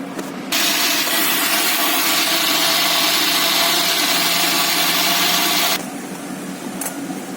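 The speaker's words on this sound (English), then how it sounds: "in this we will make a powder of this slices of bread" A mixer grinder whirs loudly as it grinds slices of bread into crumbs, a steady high motor roar running for about five seconds before cutting off, close and alone.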